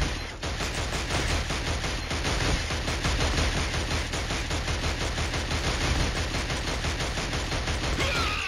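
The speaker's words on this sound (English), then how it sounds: "Is that you getting shot at?" Sustained gunfire from the shooter game Killzone HD, dense rapid bursts continuing steadily throughout at a fairly even loudness, with no talking.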